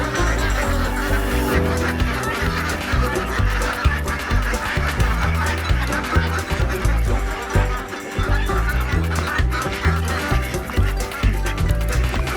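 Ducks kept inside a shelter during freezing weather quack and honk continuously in a dense, loud chorus that overlaps throughout without pause.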